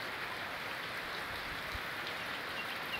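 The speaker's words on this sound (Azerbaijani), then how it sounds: "Yağış gah bərkidir, gah yavaşıyır" Steady rain falls in a garden yard, a dense, even hiss of drops on surfaces that continues without a break, fairly soft and heard alone.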